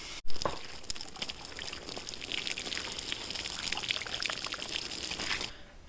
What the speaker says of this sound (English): So I'll just go and rinse it under the hose, wipe it all down, get it really clean